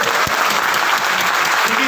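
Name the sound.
seminar audience applause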